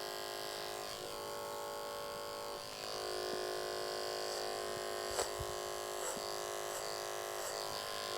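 An electric hair clipper buzzes steadily at close range during a short men's clipper cut on straight hair, its even motor drone shifting slightly as it works through the hair, with no speech over it.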